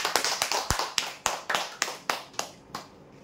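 Sharp, close hand claps ring out for a prize draw winner, about a dozen distinct strokes in a steady rhythm, loud at first and trailing off toward the end with no one speaking.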